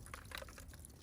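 Water drains through soaked potted seedlings in a steady soft trickle and patter, faint and close, with no voices over it.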